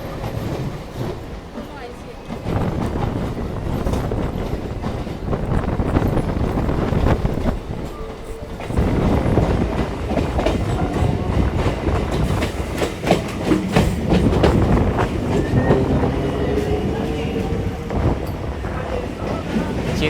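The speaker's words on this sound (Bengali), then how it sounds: "দেখো ডান দিকে একটা ট্রেন আসছে পুরনো আইসিএফ কোচ" An old ICF-coach local train runs past near Chennai Park station, a steady rolling rumble with wind buffeting throughout, louder and closer from a few seconds in and continuing for the full twenty seconds.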